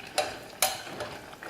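Potatoes being stirred in ghee in a pan for spiced potato with fenugreek leaves: two soft, brief scraping strokes close by, with a faint sizzle underneath and no talk.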